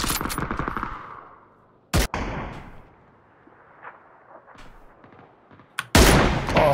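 Sharp, loud bursts of gunfire crack out in the video game PUBG, with one sudden shot in the middle and another at the end, separated by fading echoes and quieter rattling.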